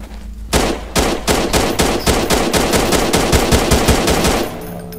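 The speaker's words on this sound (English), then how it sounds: "This is an awful rifle." A rifle in the game Shoot Your Nightmare: Space Isolation fires a long, loud, close automatic string of evenly spaced shots lasting about four seconds, then stops.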